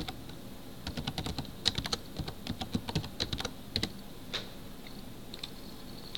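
Fingers type a file name on a computer keyboard, a run of quick, close, irregular clicks of varying strength over several seconds, pausing briefly before a few last keystrokes.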